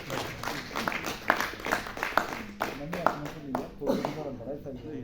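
Audience applause at a book release function for a Hindi-Urdu title, with rhythmic clapping from a small seated crowd, steady and moderately loud, while someone speaks over it into a microphone.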